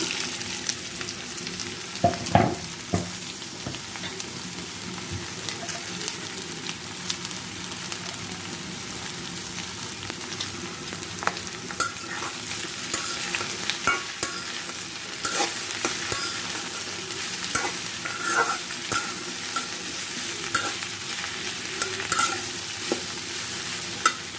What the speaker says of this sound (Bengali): ভেন্ডিবাজি করার জন্য আমি পেঁয়াজ কাঁচামরিচ একসাথে দিয়ে দিচ্ছি